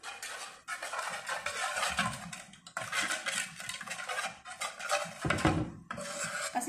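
A tomato paste mixture being stirred in a frying pan, a spoon scraping and rasping against the metal in uneven strokes with brief pauses, close and alone, no talking.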